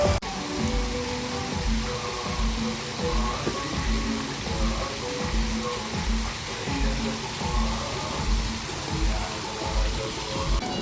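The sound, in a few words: waterfall at Sheikh Zayed festival, Abu Dhabi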